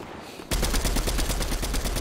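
Dense, loud automatic gunfire from a Fortnite match starts abruptly after a half-second of quiet and continues as rapid, steady bursts of shots.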